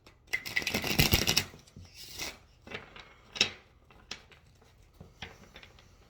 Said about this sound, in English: I don't like the shuffling on camera. It's kind of loud and it always hurts my ears